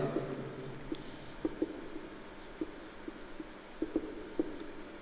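A pen writing on paper during a maths lesson gives soft scratching strokes and small taps at irregular intervals, close and quiet, with no one speaking.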